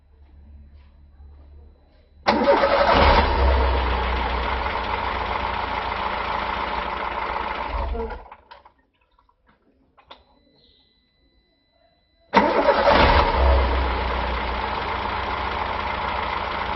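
A Volkswagen Polo 4 engine idles with a steady mid-range hum, is switched off around the eight-second mark and fades into near silence, then roars back to life and idles loudly again; no one speaks.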